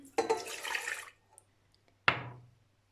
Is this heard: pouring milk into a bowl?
yes